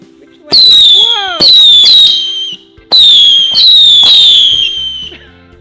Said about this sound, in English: Next fireworks will be... Light magic.